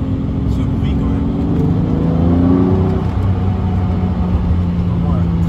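A Lamborghini Murcielago's naturally aspirated 6.2-litre V12 revs loud and close, its pitch climbing and then settling into a steady drone, with a voice talking over it.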